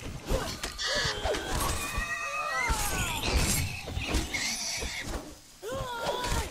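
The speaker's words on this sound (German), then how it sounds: "Ihr hört es im Hintergrund quietschen ohne Ende." Pigs squeal and shriek over and over while being slaughtered in the video game Conan Exiles, high wavering cries layered on a busy background, with a voice talking faintly under them.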